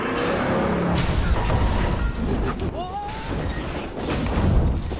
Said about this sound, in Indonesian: mobil rombongan Hwang pun terguling berkat si pengendara